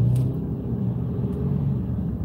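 A Chevrolet Camaro rumbles steadily nearby, a continuous low engine drone with no clear surge of acceleration and no talking.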